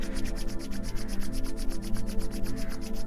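Palms rubbing briskly up and down over the face and body during a guided self-massage, a steady close whooshing friction with quick repeated strokes and no talk.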